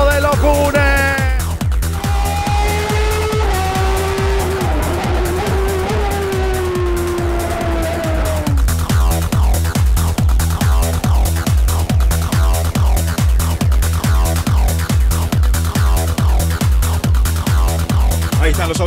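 Turismo Carretera race cars roar around the Potrero de los Funes circuit in San Luis, Argentina. Engines scream loudly and continuously, with pitch sweeping through gear changes and dense, rapid pulsing as the cars pass close by.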